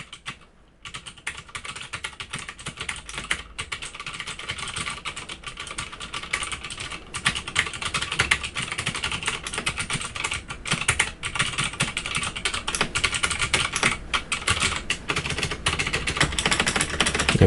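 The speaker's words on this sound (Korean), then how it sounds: "뭔가 이렇게 찰칵찰칵 소리가 더 나죠, 청축이." Typing on a mechanical keyboard fitted with Cherry MX Blue switches, a close, fast run of crisp clicky keystrokes that grows denser and louder over the stretch, alone without voices.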